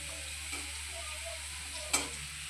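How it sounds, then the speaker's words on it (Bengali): Food sizzles in a frying pan while being stirred, a steady close crackle with a short sharp clatter near the end; no talking. "ভাজো ভাজো ভালো করে"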